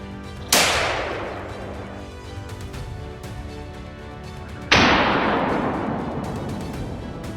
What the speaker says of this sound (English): With a single, clean shot, its desperate dash came to a decisive end.